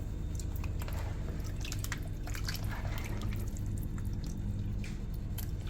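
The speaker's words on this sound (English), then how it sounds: "we're gonna rinse the oxtail. Get them nice and wash and clean." Raw oxtail rinsed under running water in a kitchen sink, with a steady wash of trickling, dripping and squishing sounds as the meat is handled, close and continuous.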